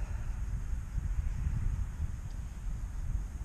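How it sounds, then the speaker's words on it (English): Steady outdoor wind rumbles and buffets against the microphone at a model plane flying field, a continuous low roar with no voices or other sounds. "the wind is actually picked up a little bit"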